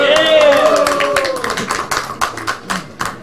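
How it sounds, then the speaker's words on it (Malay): Clapping breaks out at a press conference held after a meeting of UMNO divisional leaders at the WTC, a run of sharp, separate claps that follows a voice and stays close and moderately loud. "Tepuk tangan sikit lah."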